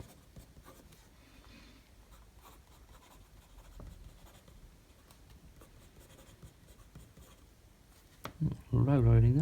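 A TWSBI Diamond 580 AL fountain pen with a broad nib, inked with Diamond Twilight, scratches softly across paper in quiet, close strokes, and a voice begins speaking at the end.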